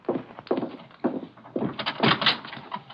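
Door sound effects in an old-time radio mystery drama: a series of hollow wooden thuds and knocks in an uneven rhythm, fairly close, with no one speaking.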